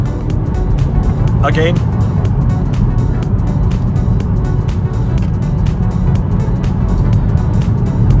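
A BMW M140i with no limited-slip differential pulls hard on greasy roads, a steady loud engine drone and road roar running throughout, with someone talking over it.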